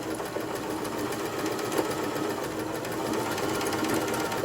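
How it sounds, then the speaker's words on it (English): A Babylock Zest sewing machine stitches zigzag in reverse, a fast continuous mechanical whir and needle chatter, steady and close, with no talking. "Next, I will once again lower the presser foot, and I'm going to go a little bit, and then I'm going to do this backwards, reverse."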